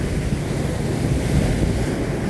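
A loud, continuous rushing roar of water gushing from powerful motor pumps draining floodwater in Amaravati, steady and close, with no voices.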